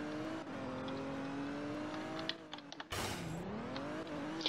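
A car drifting in the Roblox police roleplay game ER:LC Liberty County, the engine tone sweeping up and down with a brief burst of tire noise near the middle, fairly close and steady.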